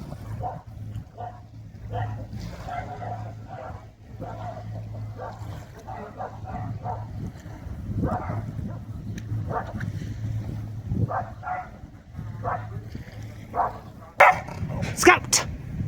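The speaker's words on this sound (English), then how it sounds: "that's my dogs going by me" Several dogs bark and yip in short bursts over a steady low engine hum on a boat trip, with a few sharper, higher yelps near the end.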